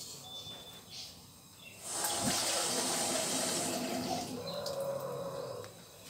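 Water is poured into a pan of about 100 grams of sugar to make a syrup. The steady splashing pour starts near the two-second mark, stays fairly loud for about three and a half seconds, then stops.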